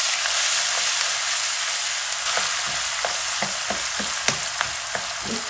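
Ginger garlic paste frying in oil with bay leaf and nigella seeds in a karahi gives a loud, continuous sizzle, crackling with sharp pops and stirring taps throughout.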